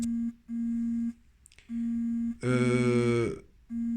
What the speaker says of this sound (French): il y a quelqu'un qui me sonne, je sais pas si vous voyez que ça tremble